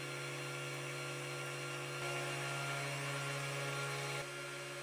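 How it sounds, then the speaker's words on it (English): CNC spindle drilling holes in a printed circuit board during isolation milling, with the first hole drilled at too high a speed: a steady high-pitched whine and hum, constant and fairly quiet, with a slight change partway through. "the first hole is drilled with a too high speed"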